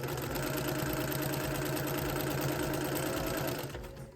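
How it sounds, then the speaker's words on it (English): A sewing machine stitches quilt block seams with nested seams in a steady, close, continuous whirring hum that runs unbroken for several seconds and then winds down and stops near the end. "I'm gonna keep sewing down my line, double checking that each of my seams stay nested."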